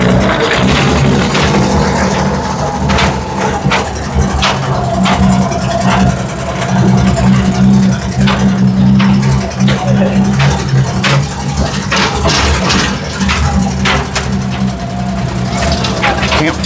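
A Dodge Power Wagon crawling uphill in four-wheel drive, its engine holding a steady low rumble with slight rises in load, heard up close from inside with clicks, rattles and people talking.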